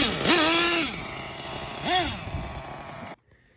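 Nitro Mach .26 engine of a Losi LST RC truck running low on fuel, two loud rising revs near the start and again around two seconds, then cutting out abruptly into silence.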